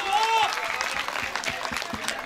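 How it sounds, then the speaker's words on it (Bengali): Audience applause at Rammohan Mela 2020 during a stage performance, a moderate patter of claps from a crowd with a short musical or vocal tone at the beginning. "এর জন্য একবার আপনারা হাততালি দিন অন্তত"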